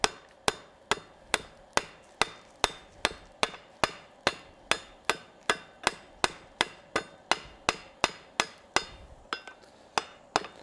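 Hammer forging a hacksaw blade of steel on an anvil: a long, steady run of ringing metallic strikes at a brisk, even rhythm, loud and close with no talk.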